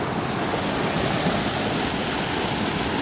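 A village river flowing around the village after rain, a steady, loud, broadband rush of water with no breaks and no voices.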